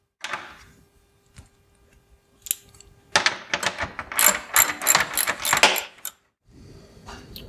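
A clip removal tool pries plastic bumper clips loose from the headlight area of a 5th-generation Toyota 4Runner, giving sparse snaps at first and then a dense run of sharp plastic clicks and ratcheting pops, close and loud.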